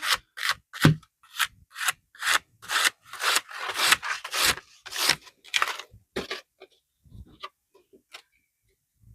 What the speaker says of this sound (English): I will use this side of brush and just draw lines.